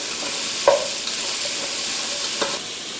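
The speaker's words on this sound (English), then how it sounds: "let the onion cook up a little bit, and caramelize just a touch" Onions for fajita soup frying in a pot give off a soft, steady sizzle, with a couple of brief clinks of a utensil against the pot.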